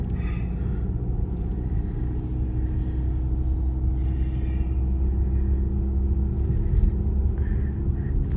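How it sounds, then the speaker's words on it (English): Steady road traffic passes through a small town, a continuous low rumble of cars and heavier vehicles droning close by, with no talking. "Poor people that live here must love all this traffic that goes through their town"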